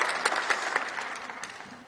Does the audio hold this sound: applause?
yes